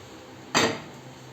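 A lid set down on a pot of chicken biryani, one clear metallic clank that rings out briefly over quiet kitchen background.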